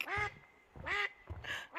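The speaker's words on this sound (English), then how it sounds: "Oh my word, that is the loudest duck." A loud duck quacks close by on a mountain trail, four harsh, nasal quacks in quick succession with brief gaps between them, standing out clearly over quiet outdoor background.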